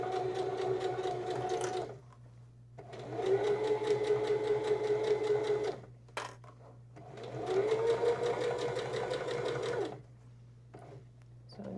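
A sewing machine runs over a seam on a fabric Kindle sleeve in three sustained stitching runs of a few seconds each, with a steady motor tone beneath and brief clicks between runs.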